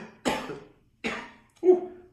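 Three short, separate coughs close to the listener, each a sharp burst fading quickly, with brief silences between them.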